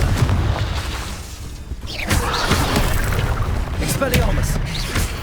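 A Confringo spell blast in the video game Hogwarts Legacy, loud booming bursts and crackling impacts over rumbling game noise, with a brief lull before further sharp pops, and a voice calling out in places.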